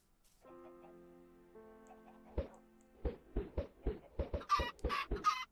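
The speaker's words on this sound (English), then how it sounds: "maybe we should just slay these chickens." Minecraft chickens cluck in a game, starting with a few soft sounds and building into a quick run of clear, close clucks.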